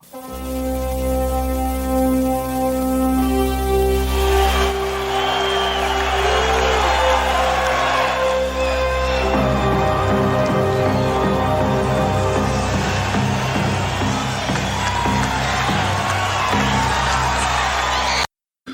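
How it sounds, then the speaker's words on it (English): A wrestling crowd at Starrcade 87 cheers and whoops throughout Ric Flair's entrance theme, a loud continuous roar of the arena audience running under the music for nearly twenty seconds. "It's funny because you hear the crowd in the background."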